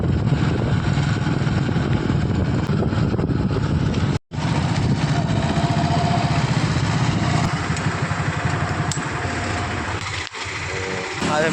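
A motorcycle engine runs steadily for most of the stretch in a village setting, a loud continuous hum with one abrupt break, while people talk over it.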